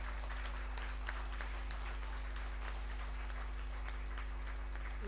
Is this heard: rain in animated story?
no